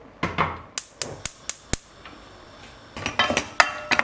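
A metal spoon clinks and scrapes against a pot of chopped onions in a quick series of sharp knocks, followed by a faint rustle of stirring.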